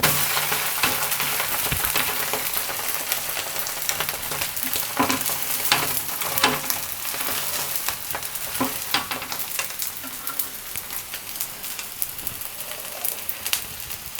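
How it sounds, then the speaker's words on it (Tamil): A fish dosa fries on a hot pan after being flipped, giving a dense, continuous sizzle close up, with frequent small crackles and pops over a constant hiss that never lets up. "இப்போ தோசை ஒரு சைடு நல்லா குக் ஆயிடுச்சு. நம்ம பரட்டி விட்டுறலாம்."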